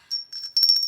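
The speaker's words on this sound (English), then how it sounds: "bell on my desk that I use sometimes, and I hit something into it and it made the bell ring" A small desk bell struck by something, giving a sustained high metallic ring with a few quick rattling touches over it, close and alone.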